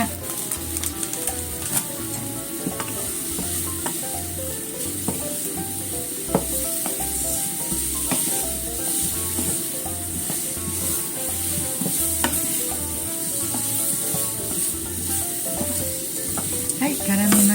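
Sweet potatoes are stirred in a pan with sugar syrup and sesame, sizzling steadily under a rhythmic scrape and clatter of the spatula, loud and near, with no talk.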